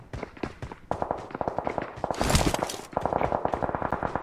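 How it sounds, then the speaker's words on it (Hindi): Rapid bursts of gunfire in PUBG Mobile, sharp repeated shots in quick volleys with a louder, denser burst midway, heard alone without talk. "अबे लैग हर तरफ से गोली चल रही है।"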